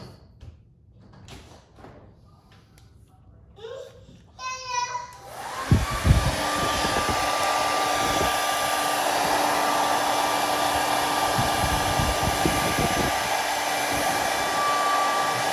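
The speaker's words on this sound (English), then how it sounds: "you'll want to run your hair dryer over it a tad bit" After some quiet rustling and a few brief high tones, a hair dryer heating vinyl wrap switches on and runs steadily with a loud, close whoosh and a whining hum.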